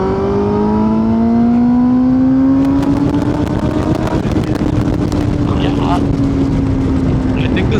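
A Kawasaki ZX10R sport motorcycle accelerating in sport mode, its engine note climbing steadily in pitch under constant loud wind rush, with rider talk over it.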